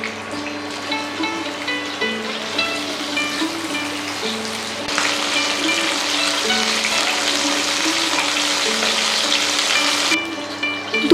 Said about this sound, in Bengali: তেলটা এবারে গরম হয়ে গেছে, এবারে মাছের পিসগুলোকে ভেজে নেব।